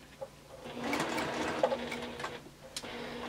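Sewing machine stitching fabric for a Temperance quilt block, a steady mechanical whirring run of rapid stitches with small clicks and ticks, moderately loud and close, with no talking.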